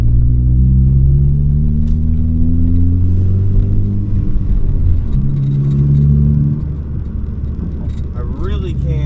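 A Ford Focus ST engine idles and revs close by, running sputtery and rough. Its low rumble rises and falls, with a faint whir near the end.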